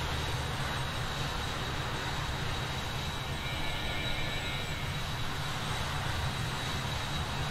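An aircraft engine in Microsoft Flight Simulator 2020 holds a steady, dense drone with a broad rushing roar, continuous and fairly loud, with no talking.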